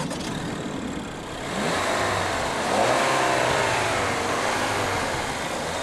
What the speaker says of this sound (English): The Discovery is powered by a 2-litre turbocharged 4-cylinder that's good for 240 horsepower and 250 pound-feet of torque at 1800 RPM.